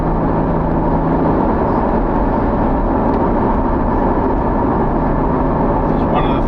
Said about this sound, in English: It's a 6-cylinder engine, naturally aspirated, and it feels it.